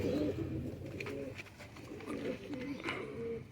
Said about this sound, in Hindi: ये मेरा बहुत ही लाजवाब टैडी कबूतर है